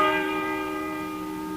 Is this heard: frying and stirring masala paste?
no